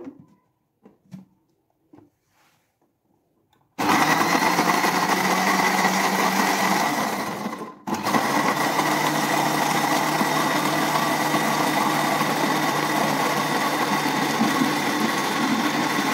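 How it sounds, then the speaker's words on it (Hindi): After a few faint taps, a blender roars to life, blending soaked apricots for a sweet chutney. It whirs loudly and steadily, cuts out for a brief moment, then runs on at full power. "तो अच्छे तरीके से इसको ब्लेंड करेंगे।"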